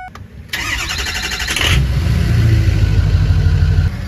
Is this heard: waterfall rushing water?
no